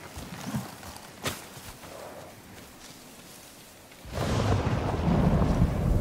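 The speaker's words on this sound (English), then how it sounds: "Why is it always stormy?" Storm ambience in the video game Ghost of Tsushima: a sharp thunder crack early on, then wind and heavy rain swelling to a loud, dense wash with low rumbling, no talk.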